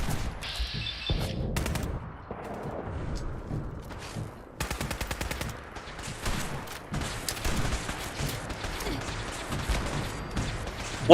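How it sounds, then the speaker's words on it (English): Gunfire and crashing bursts in Fallout 4, with an irregular series of sharp cracks and rattling shots spread over several seconds amid a scrappy battle, including a Molotov cocktail bursting. "That was a bloody Molotov."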